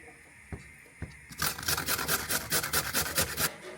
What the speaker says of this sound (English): I'm going to grate a carrot.